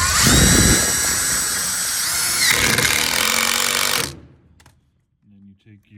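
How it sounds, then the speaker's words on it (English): A hole saw drills into metal to enlarge an existing hole, a loud whining grind that holds steady for about four seconds, then stops abruptly, followed by a few faint knocks. "And then you take your hole saw."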